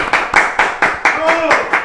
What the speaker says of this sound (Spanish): lo recibimos con un fortísimo aplauso